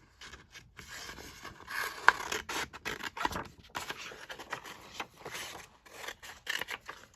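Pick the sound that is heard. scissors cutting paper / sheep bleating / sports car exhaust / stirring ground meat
scissors cutting paper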